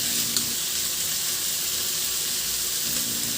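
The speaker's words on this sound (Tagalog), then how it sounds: "Isabay ko na halo yung pork liempo para magisa na rin siya" Pork liempo sautés in a hot pan, a steady close sizzle and crackle of frying meat with a faint stir near the start, no voices.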